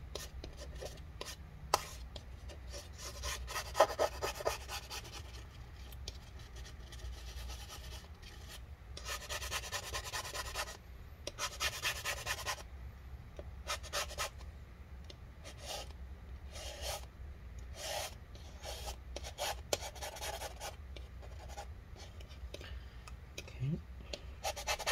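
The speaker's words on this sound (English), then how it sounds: "Scraping out all this adhesive." Tool scraping old battery adhesive inside a 15-inch Retina MacBook Pro A1398 (Mid 2015) after solvent is rubbed in, giving repeated close rubbing and scratching strokes in uneven bursts, with a voice occasionally talking.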